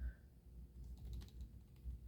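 A computer keyboard, just connected during a Windows 11 Pro reinstall, gets a short run of soft, quiet key presses for Control-Alt-Delete, with several light clicks in a brief cluster over low room hum.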